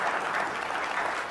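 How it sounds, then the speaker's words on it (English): Steady audience applause at a university talk, a dense wash of many hands clapping at moderate loudness with no voices on top, filling the short stretch evenly. "Give us a round of applause"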